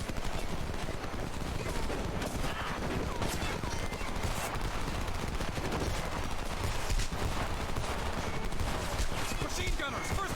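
Sustained machine gun fire in a WW2 video game, a dense continuous rattle of shots and explosions running steadily throughout, loud and busy, with a voice talking underneath.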